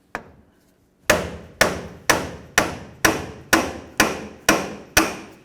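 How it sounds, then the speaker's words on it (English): A hammer strikes nine sharp, evenly spaced metallic blows, knocking out the front passenger-side axle of a 2007-17 Ford Expedition; each hit rings close and loud, with a single lighter tap before the steady series. "I'm going to use a hammer and I'm going to come right along this right here and just try to knock it out."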